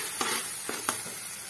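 Chole masala spices fry in a pan, with a soft sizzle under a few quick stirring scrapes, close and fairly quiet.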